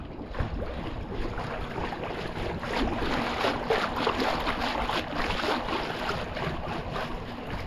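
A converted pedal boat pushes through water on its maiden voyage, giving a steady, close wash of splashing and churning with wind buffeting the microphone throughout, growing a little louder midway.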